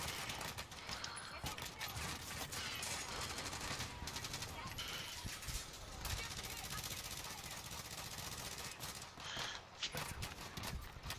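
Pistol gunfire crackles through a video game firefight in fast, dense bursts layered with other shots. Loud and continuous, with players talking over it.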